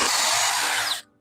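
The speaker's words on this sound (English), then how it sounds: "Drill a hole into the siding," A power drill drilling into siding whines steadily at close range for about a second, then cuts off abruptly.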